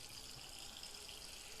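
Water poured into a pan of chicken and vegetables during cooking, a faint, steady hissing flow with no talk over it.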